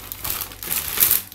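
Close crinkling and rustling of thin plastic as a small bag is opened, in short irregular bursts with no talking.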